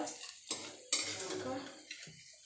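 Papad fries in a small amount of reused oil, heard as brief bursts of sizzling and bubbling broken by short pauses, with light clinks of utensils against a pan, close and fairly quiet.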